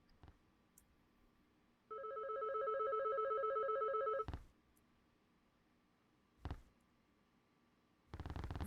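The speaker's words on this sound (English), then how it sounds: "The phone continues to ring." A telephone rings with a bright electronic trill lasting a couple of seconds, followed by a few isolated clicks and knocks against a quiet background.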